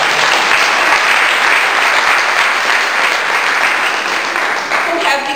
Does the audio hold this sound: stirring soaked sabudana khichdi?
no